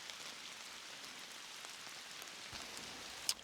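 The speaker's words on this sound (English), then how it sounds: "the rain's eased off now, so it's still raining" Steady rain falling, a continuous hiss of drops pattering on surfaces, with one sharper drip near the end.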